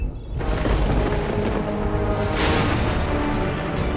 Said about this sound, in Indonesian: Pohon tumbang disambar petir sampai berasap.